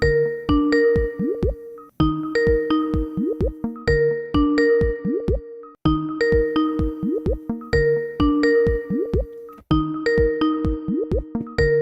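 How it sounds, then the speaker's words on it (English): A repeating Skype call ringtone of bright electronic chiming tones, playing in steady bursts about every two seconds with short gaps between. "Otherwise, the Skype will not ring."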